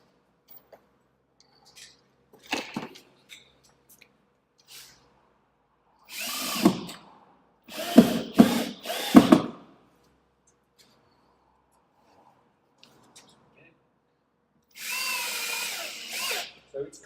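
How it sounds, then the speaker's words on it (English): A power drill drives screws to fix an Artnovion FixArt clip panel in place, running in several short whirring bursts with quiet handling clicks between them, close and loud. "So let's screw that one in place."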